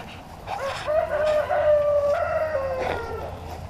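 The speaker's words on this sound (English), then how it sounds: "I love my chickens." In a backyard flock, a rooster lets out one long, fairly close crow that rises and then holds steady. Soft clucking sits underneath it.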